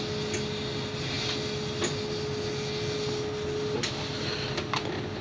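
A MakerBot 3D printer runs steadily with a constant motor whine and soft mechanical ticks and clicks, close by in a quiet room.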